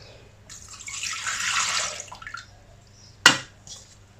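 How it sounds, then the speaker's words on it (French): Milk poured into a mixing bowl for soft sandwich bread dough, a close, steady liquid splash lasting a couple of seconds, followed by a sharp clink and a faint trickle. "on va mettre les liquides, donc le lait,"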